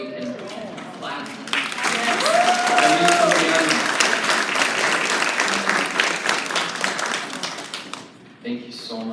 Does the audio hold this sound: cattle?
no